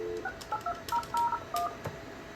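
A phone number is keyed in on a business phone system as a quick run of DTMF tones, about a dozen short beeps in an uneven rhythm, close and clear with no talk.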